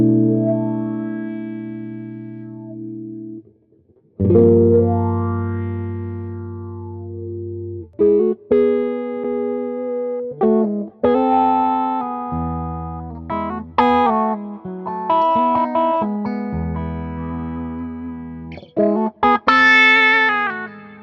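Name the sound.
electric guitar wah pedal sweep, clean tone, neck pickup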